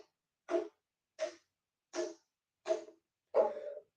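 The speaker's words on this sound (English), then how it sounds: "I know I'm coughing right now" Five separate dry coughs, spaced roughly evenly and close to the listener, the last one slightly longer and rougher.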